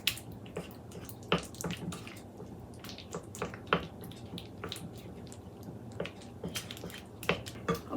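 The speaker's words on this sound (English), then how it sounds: "So we're gonna stir this up a little bit." Softened cream cheese being stirred in a bowl makes soft, wet squishing and scraping strokes that repeat irregularly through a steady low background hum, close and moderately loud, with no voices.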